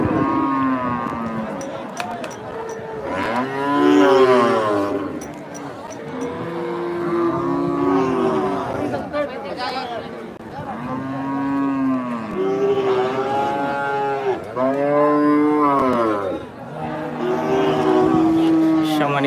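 Cows moo again and again at a cattle market, loud and overlapping, long drawn-out calls from several animals close by, with a busy crowd murmuring underneath.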